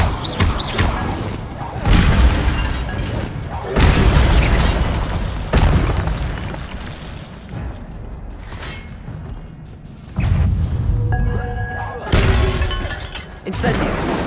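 Repeated Incendio fire spell casts in Hogwarts Legacy come as several loud whooshing bursts and booms spread across the stretch, with a voice shouting over some of them and quieter rumbling between.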